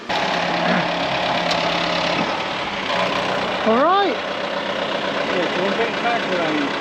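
A farm tractor's engine idles steadily close by with a low, even rumble, while someone speaks briefly and a rising whine sweeps past midway.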